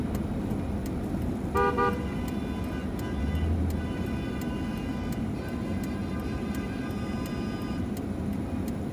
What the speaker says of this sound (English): Got all these people honking